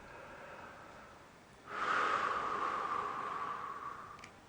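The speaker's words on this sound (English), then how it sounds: "Breathe." Partway through a relaxation exercise, a single long, soft breath drawn in or let out through the nose starts after a quiet pause, hissy and close, with no talking.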